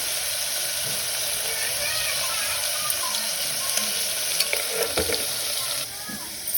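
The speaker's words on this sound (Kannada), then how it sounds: "ಈಗ ಕುಕ್ಕರ್ ಇಟ್ಕೊಂಡು ಅದಕ್ಕೆ ಎಣ್ಣೆ ಹಾಕ್ಕೊಂಡು ಚಿಕನ್ ಹಾಕ್ಕೊತಿದ್ದೀನಿ" Steady hiss of food frying in hot oil, with occasional stirring clinks and scrapes throughout, close and fairly loud.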